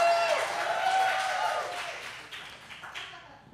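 An audience at a comedy show applauds, a dense wash of clapping that gradually thins and fades over a few seconds.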